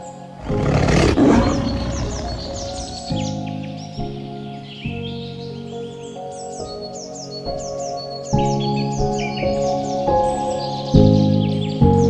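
Tigers at Thrissur Zoological Park in Puthur give a loud, close roar near the start, followed by lower rumbling growls, while birds chirp faintly in the background.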